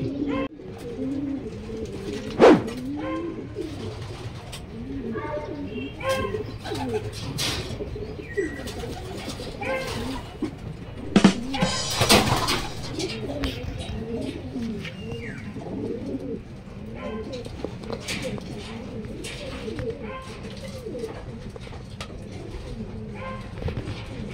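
Racing pigeons back home from a training flight coo repeatedly in a loft, with soft rolling calls, occasional chirps and a few brief wing flutters, close by.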